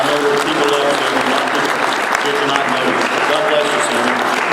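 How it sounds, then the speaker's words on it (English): Audience at the 2016 Tennessee Radio Hall of Fame event applauds Sammy George, a loud, even, sustained wash of clapping with some voices faintly mixed in. "y'all can clap for Sammy"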